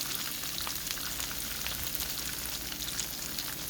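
Ground lamb rice balls frying in a pan, giving a steady, even crackling sizzle with scattered fine pops throughout and no voices.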